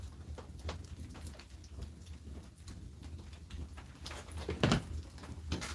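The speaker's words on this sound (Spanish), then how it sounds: "No para de llover." Rain falls steadily outdoors, a faint, diffuse patter with scattered sharper drops and knocks, a few louder near splashes toward the end, and no talking.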